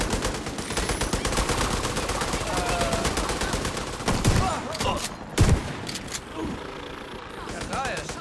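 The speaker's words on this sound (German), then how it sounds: "Leute, hört auf zu schießen, jetzt schon." Gunfire in the co-op shooter The Division 2: dense, rapid automatic fire runs continuously with a few louder shots, while players talk over it.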